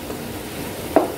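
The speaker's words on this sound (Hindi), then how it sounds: "अब इसको हम पका लेते हैं" Ginger paste and chillies frying in a pan for a yogurt-and-fenugreek curry, a steady low sizzle with one sharp stir-scrape spike near the end, heard close and alone.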